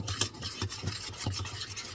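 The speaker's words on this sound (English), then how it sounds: "Just want to mix it up real good." A spoon scrapes and swishes through thick sourdough pancake batter in an enamel bowl, rhythmic rasping strokes close by, with no talking.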